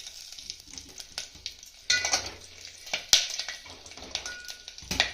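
Green chillies sizzle in hot ghee in a pot with a whole-spice tempering for Kolhapuri mutton, an uneven crackle punctuated by sharp utensil clinks and scrapes against the metal.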